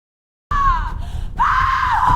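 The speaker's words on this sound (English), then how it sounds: "It started as a gasp, then grew into a full-throated shriek of pure agony." A woman lets out a long, loud, wavering scream of pain, breaking briefly and then rising again, close and alone.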